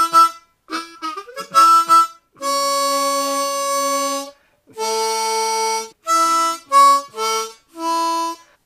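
A Hohner Crossover harmonica in A plays blues octaves with tongue blocking: a few quick short notes, then several long sustained tones and brief phrases, close and loud with no talking.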